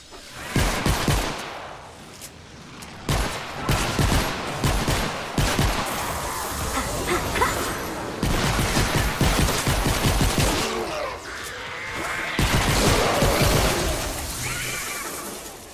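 Rapid bursts of handgun fire in the video game Fortnite: Save the World, loud and close, dense strings of sharp shots with brief gaps between volleys and some impact clatter.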